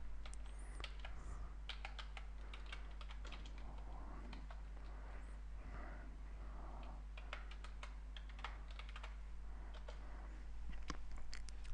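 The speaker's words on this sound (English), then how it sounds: "Touched can be controlled by the keyboard too. Just type the initial letters of the commands in the menu." Commands are typed on a computer keyboard for the Touched code editor, giving quick, irregular, faint clicking keystrokes in small bursts over a steady low electrical hum.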